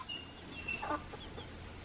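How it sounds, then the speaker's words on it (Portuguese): Hens and a large rooster on a farm give a few short clucks and squawks, moderately close, over quiet background noise without speech. "Molecada, olha a diferença entre as galinhas e aquele galo lá, mano."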